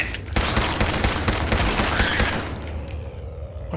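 Rapid automatic fire from a pipe pistol in the video game Fallout 4, a dense loud burst of shots that fades out near the end.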